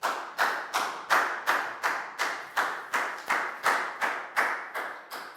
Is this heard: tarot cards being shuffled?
no